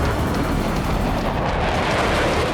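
Bombs dropped by fighter jets in an airstrike over Rafah in Gaza, heard as a continuous loud, dense roar of explosions and rumble with no clear gaps, close and overwhelming.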